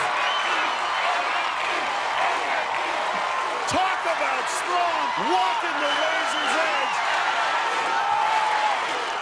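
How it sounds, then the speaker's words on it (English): A large arena crowd at an American Ninja Warrior competition cheers and chants loudly and continuously, with thumps from the course and an excited commentator talking over it. "And the crowd chanting MSD."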